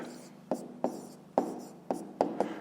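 A pen writes an answer by hand on paper during a fifth-grade maths exercise: a handful of short, scratchy strokes close to the microphone, quiet and evenly spaced.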